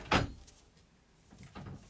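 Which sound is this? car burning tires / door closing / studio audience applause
door closing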